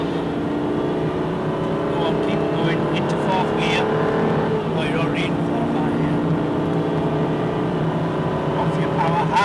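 Aston Martin engine pulling hard under steady power, a continuous loud drone with rising pitch as it climbs toward fourth gear, with a voice talking over it.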